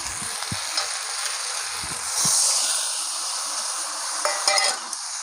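Spice paste of ground mustard and ginger with cumin, turmeric and salt sizzles steadily in hot oil while being sautéed for a Bengali fish curry, with a few scraping stirs and clinks of the spatula, close and continuous.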